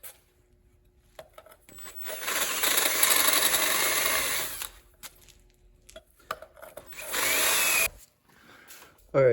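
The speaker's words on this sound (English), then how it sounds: "So I'll drill the hole and then bolt it up" Power drill boring holes for new motor mounts on a rear-engine Honda CRX, two loud sustained bursts of several seconds separated by quiet pauses with small clanks, close by in a workshop.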